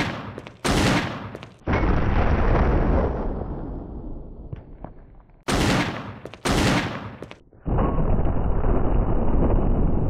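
A powerful weapon wielded by Jill in the Resident Evil REmake booms loudly twice, each shot a sharp blast followed by a long rolling decay, with short clattering handling noises between the two firings.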